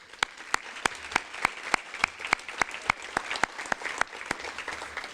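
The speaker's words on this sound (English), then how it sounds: "So I want to give a big round of applause to all of our honorees." Audience applause for honorees at an awards luncheon, a small group clapping in sharp, evenly spaced claps at moderate distance for several seconds with no talk over it.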